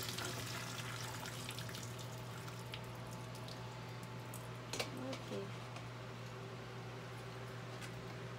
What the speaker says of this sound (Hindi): अभी मैं पास्ता को फिल्टर कर रहा हूँ।